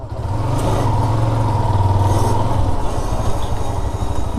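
Yamaha R15 V2 motorcycle ride, a steady close engine drone with low rumble and a slight rise in pitch, continuous throughout without talk.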